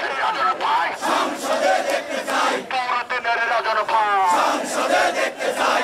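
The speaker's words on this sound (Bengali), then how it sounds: "তার মনোনয়ন বাতিলের পক্ষে চলে বিক্ষোভ।" Dense crowd of protesters at a Bangladeshi BNP political rally, chanting and shouting together against a party nomination, with loud rhythmic collective slogans throughout and a few prominent single voices rising above the mass.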